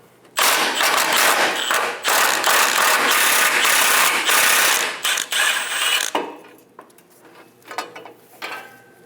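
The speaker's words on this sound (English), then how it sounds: "Using a 15mm socket, remove the bolt." A ratchet with a 15mm socket loosens the front fuel tank strap bolt under a 2003-2025 Chevrolet Express 2500, loud rapid clicking bursts in several runs, then a few lighter clicks and handling sounds at the end.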